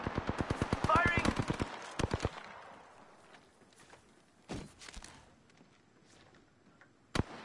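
Video game gunfire opens with a rapid automatic burst, then trails into a few isolated sharp shots separated by quieter gaps.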